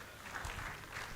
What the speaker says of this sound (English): Can we applaud them, please?